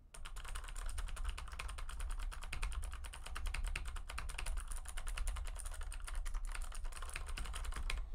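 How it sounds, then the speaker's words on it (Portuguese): Steady, rapid typing on a computer keyboard recorded as a desktop microphone test, a continuous stream of close, crisp key clicks with no talking. "Mas vamos fazer o teste de teclado aqui"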